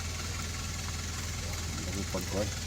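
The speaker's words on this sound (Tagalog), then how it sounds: "Abangan natin to kung maganda na bang ikot ng makina." A car engine runs after repair work, a steady low idling hum with a faint rhythmic pulse, while voices come in briefly toward the end.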